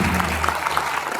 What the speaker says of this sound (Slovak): To je ono. Veľký potlesk.